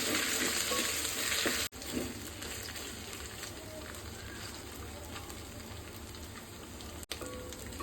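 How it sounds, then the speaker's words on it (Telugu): Ginger paste fried in a pan, a continuous close sizzle with faint scraping of stirring, broken by two very brief gaps. "పచ్చివాసన వేయేంత వరకు ఫ్రై చేసుకోవాలి"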